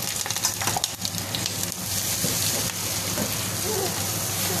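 Cumin seeds and red chili sizzling in hot oil in a home kitchen, a steady, fairly loud crackling hiss that runs the whole time with a few sharper pops near the start.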